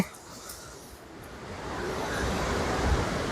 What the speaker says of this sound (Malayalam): ഈ പാറിന്റെ മേലെ ഇത് ഇങ്ങനെ വെള്ളം കയറുമ്പോ ഒരു സംഭവം തന്നെയാണ് അല്ലേ